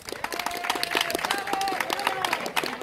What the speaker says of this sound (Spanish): aplausos para los macarras